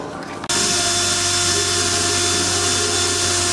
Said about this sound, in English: I've never had to drill with a mirror to extract a bolt before